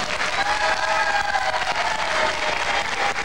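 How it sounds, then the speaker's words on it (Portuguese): An audience claps steadily and densely for an honoree at a televised tribute show, a continuous wash of applause with no pauses. "Vamos aplaudir,"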